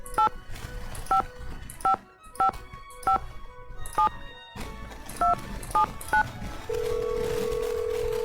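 Phone keypad tones in the video game Nancy Drew: The Phantom of Venice, a quick run of about ten crisp beeps in an uneven rhythm, close and clear, followed by a steady ringing tone.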